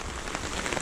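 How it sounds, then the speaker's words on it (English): Heavy rain drums steadily on a small tent during a thunderstorm, a dense, even patter with no pauses, heard up close in a brief moment. "This is I think hour 2 of non-stop rain."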